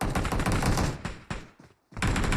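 Gunfire in the mobile battle royale game PUBG Mobile: dense rapid bursts of automatic shots, loud and close, cutting off briefly into near silence before another loud burst resumes.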